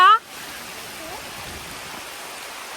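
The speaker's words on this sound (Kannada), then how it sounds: "ನೋಡಿ ಎಷ್ಟು ಜೋರಾಗಿ ಮಳೆ ಹೋಯ್ತಾ ಇದೆ" Heavy rain with wind keeps up a steady, dense hiss outdoors at a village home. A brief voice is heard at the very start, then the rain continues alone.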